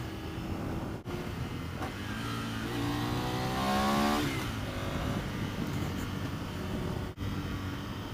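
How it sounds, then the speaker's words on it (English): A Ducati Monster 659 learner motorcycle on a test ride, its engine revving up through rising and falling pitch sweeps with steady wind rush, close and continuous, no talk. "Oh yeah, love the sound of that engine."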